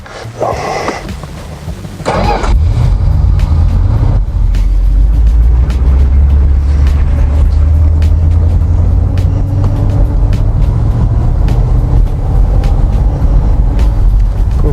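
A 1979 Aston Martin V8 starts with a brief whir, then a loud, low rumble carries on as the car drives steadily, engine note rising and falling slightly.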